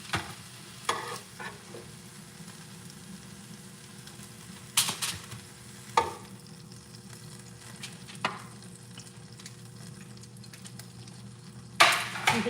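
Pork chops sear on a hot griddle with a soft, continuous sizzle and crackle under a low hum, punctuated by occasional sharp clatters and scrapes of utensils and pans in a home kitchen.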